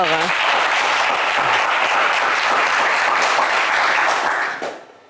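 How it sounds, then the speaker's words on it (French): Studio audience at a French television game show applauds a contestant after a wrong answer, a dense, loud burst of clapping that holds steady for several seconds before fading out at the end. "Allez, c'est pas grave, Kevin, on vous applaudit bien fort."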